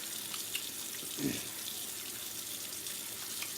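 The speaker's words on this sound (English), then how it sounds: "I'm going to wash my hands." Tap water runs steadily from a kitchen sink faucet while hands are washed before mixing a cheesecake crust, a constant close rushing with a brief splashy swell partway through.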